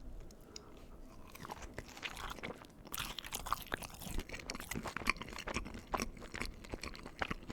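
Kroger curly cheese fries are chewed close to the mic in a quiet setting, with steady soft crunching and wet mastication throughout, interrupted by small sharp bites and crackles.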